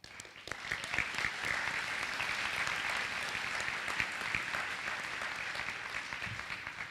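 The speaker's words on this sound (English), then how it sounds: "I would like to use this opportunity to give them all a big round of applause" Sustained applause from a graduation audience for the school staff, a dense wash of many hands clapping steadily for about seven seconds with a few sharper claps standing out, with no talking over it.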